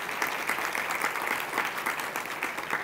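Audience applause honoring a director at a 50th anniversary event for the Voting Rights Act, a steady, dense clapping from a large indoor crowd that holds at an even, moderate level throughout without voices.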